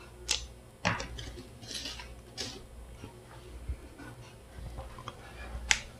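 Fresh garden green beans snapped by hand, several sharp, crisp cracks spaced irregularly over quiet background, close and fairly distinct, with no talk.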